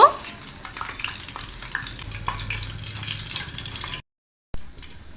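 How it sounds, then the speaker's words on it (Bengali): Semolina pitha cakes frying in oil, a close, steady sizzle with soft bubbling and occasional stirring clinks, running continuously for about four seconds before a brief silence and a short return. "দুই পাশটা ভালো করে একটু ভেজে নেব"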